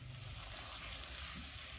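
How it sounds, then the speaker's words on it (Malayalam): Spices fry in coconut oil in a pan for duck curry, a faint continuous hissing sizzle heard up close, steady and without stirring clatter or speech. "നമുക്ക് വഴറ്റിയെടുക്കണം."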